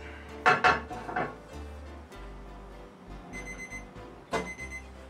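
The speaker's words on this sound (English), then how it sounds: "our timer says that it is time to quit" An electronic kitchen timer goes off faintly near the end of a sheet-pan chicken cooking session, with a few thin, high beeps rising out of quiet kitchen clatter and handling of dishes.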